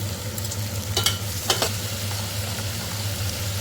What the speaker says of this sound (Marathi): त्यातच आपण आता टमॅटो टाकून देणार आहे त्यालाही व्यवस्थित परतून घेऊ